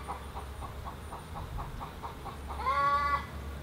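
A chicken at a beehive site makes a run of soft, evenly spaced clucks, then a louder drawn-out call near the end, heard close over a low background hum, no talking.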